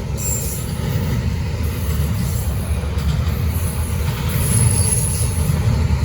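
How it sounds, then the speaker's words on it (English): A BNSF freight train, 24X, rolls northbound past the trackside, a loud steady rumble of railcars with wheel squeal and faint clatter throughout, no talk. "That's the end of BNSF 24X northbound."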